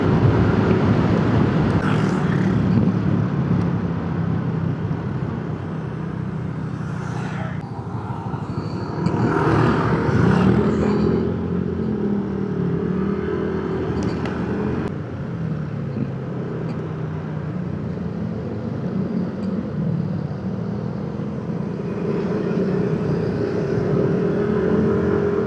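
A motorcycle rides along an open, traffic-free perimeter road near Clark. Its engine gives a steady, continuous drone under heavy wind rush, with the pitch shifting slightly as it cruises.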